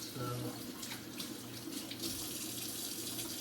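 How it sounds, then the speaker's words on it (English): Kitchen tap running steadily into a sink while fresh mushrooms are washed off, a close continuous rush of water with faint voice underneath. "probably a couple mushrooms, wash them off."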